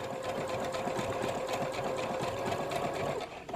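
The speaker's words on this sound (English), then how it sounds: "My needle is going onto the white, biting into my print." A domestic sewing machine runs a blanket stitch along the edge of a fabric print on a quilt block, making a continuous fast rhythmic whirring and clicking close by that slows at the very end.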